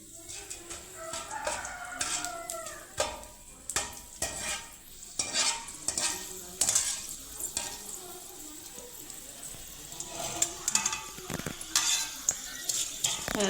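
Bitter gourd seeds frying in hot oil, with a steady sizzle broken by repeated scraping stirs and clinks of a spoon against the pan, close and fairly loud throughout.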